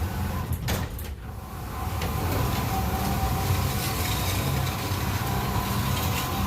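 A Genie screw drive garage door opener starts after a brief clunk and runs with a steady grinding mechanical drone and rattling, loud and continuous with no talk.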